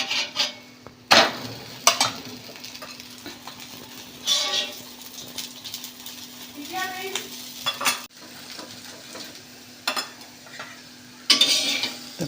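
Puran poli cooking in ghee on a pan, a soft sizzle under repeated spatula scrapes and taps, with sharp utensil clatters at intervals, heard close and fairly quiet.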